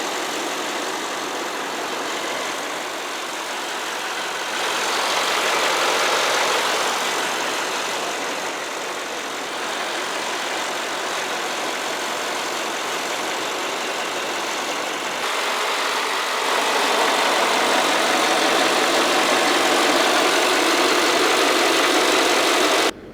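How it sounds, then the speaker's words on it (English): A 2020 Mercedes-AMG GT 4-Door Coupe with its 4-liter twin-scroll bi-turbo V8 running, a steady broadband roar that swells slightly a few times, close and loud with no talk. "The engine is a 4-liter V8 bi-turbo with twin-scroll turbos."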